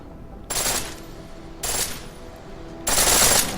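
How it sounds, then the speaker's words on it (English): A pistol fires on full auto in Deus Ex: Mankind Divided, three short rapid bursts separated by brief pauses, crisp and close, the final burst slightly longer. "pistol in full auto will take down targets fast, but it'll burn through your ammo."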